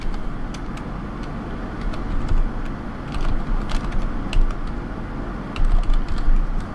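Clicky keystrokes on a computer keyboard while working in Windows 3.1, with irregular bursts of taps over a steady low rumble of background noise.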